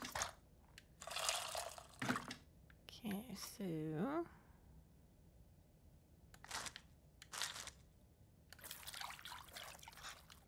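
Tamarind being mixed with water in a bowl in the cooking game Venba, soft liquid squelching and trickling in short bursts separated by quiet gaps, with a brief spoken word and game tones in the middle.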